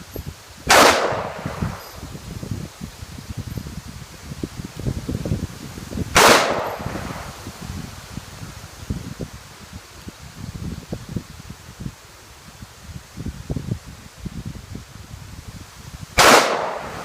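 Three sharp, loud gunshots from a Smith & Wesson .500 Magnum revolver fired at a target on an outdoor range, spaced several seconds apart, with faint rustling between them.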